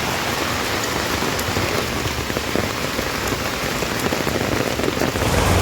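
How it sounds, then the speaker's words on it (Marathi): Heavy monsoon rain pours down in Panvel, a dense, unbroken hiss of water hitting surfaces, loud and close with no voices. "धो धो बरसणाऱ्या पावसामध्ये पाणी आणि आकाश एक"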